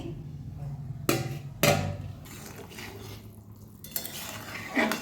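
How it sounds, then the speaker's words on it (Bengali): Fish curry with flat beans, papaya, potato and long beans cooking in a pot in a home kitchen, with metal spoon scrapes and clanks against the pot, two louder knocks and a low steady simmer, close by. "এখানে শিম পেঁপে আলু বরবটি দিয়ে মাছের ঝোল করছি"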